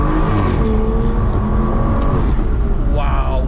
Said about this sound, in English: So here we are on our way for our first drive of the Aston Martin.